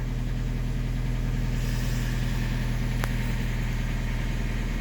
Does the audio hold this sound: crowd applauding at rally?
no